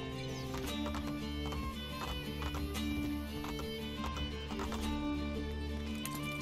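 Horse hooves clip-clopping at speed in Assassin's Creed: Brotherhood, a rapid continuous galloping rhythm laid over game music, with no voices.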